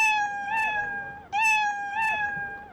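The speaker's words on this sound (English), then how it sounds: "You click here to make the cat make a sound." Two bright, pitched meows with bending, harmonic-rich tones, each rising then sliding, played cleanly with no talking, like a synthesized cartoon cat effect from Scratch programming.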